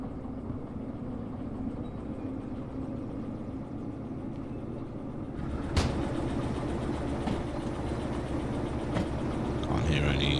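Locomotive in the train simulation game Derail Valley throttling up, a steady low engine rumble that swells and grows louder partway through, with a few sharp mechanical clanks over the continuous drone.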